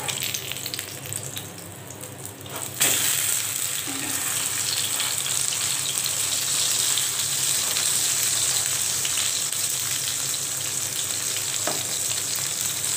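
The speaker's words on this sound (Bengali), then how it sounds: "ফলি মাছের কোফতাগুলো এভাবে করে ভেজে নিব।" Fish koftas fry in hot oil in a pan. A steady, dense sizzle swells suddenly as they go in and then holds at an even, close, continuous hiss with no talking.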